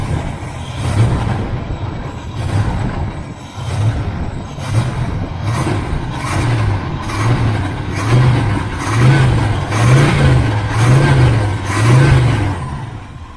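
A 1976 El Camino engine idles after a swap from a 2-barrel to a 4-barrel carburetor, with a loud, rhythmic, throbbing chug and periodic surges that rise and fall over a steady mechanical rumble.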